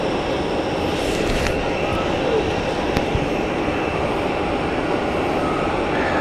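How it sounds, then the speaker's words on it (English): A large aircraft on runway 16 at Zurich Airport gives a loud, continuous engine roar that holds steady throughout, heard from nearby without any talk. "quite a lot of planes, especially the larger planes, using runway 16 today"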